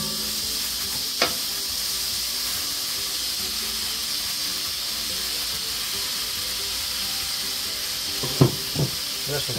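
Onion sizzles steadily in a hot pan while making egg rolls, a continuous close frying hiss with a couple of brief clinks or stirring knocks near the start and end.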